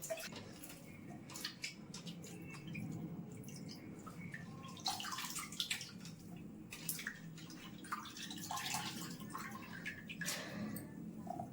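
Soaked soybeans are strained and squeezed by hand, producing quiet wet squelches, drips and splashes of draining water in irregular bursts; no talk.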